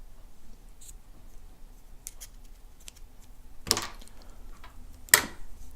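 Scissors snip the frayed ends of a MacBook charger cable, two sharp crisp cuts spaced about a second and a half apart against a quiet background.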